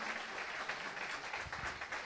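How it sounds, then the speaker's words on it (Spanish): A church congregation applauds the choir, a steady wash of many hands clapping, fairly faint and distant, continuing evenly throughout. "un gran aplauso en primer lugar para el Señor y otro para el coro"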